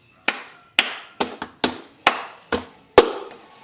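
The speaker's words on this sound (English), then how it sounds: "So it's you clap 2 times. 1, 2. Hit the cup 3 times." A cup song rhythm played on a plastic cup and hands: eight sharp, close percussive hits of claps and cup taps in a steady, slightly uneven pattern, with no talk over them.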